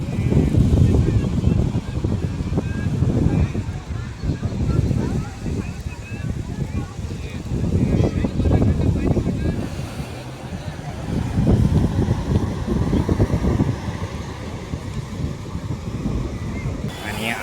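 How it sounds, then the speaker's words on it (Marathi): Night sea waves at Girgaon Chowpatty beach in Mumbai wash in as slow, rolling surges, with heavy wind buffeting the microphone and a low, continuous roar throughout. "हा तो रात्रीचा समुद्र."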